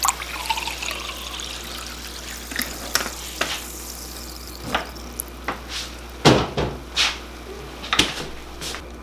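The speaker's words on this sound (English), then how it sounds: "Let's throw some Sunny D." Sunny Delight is poured into a vegetable stir fry, with light liquid splashing and trickling over a steady sizzle, broken by a few sharp clatters and knocks near the middle and end.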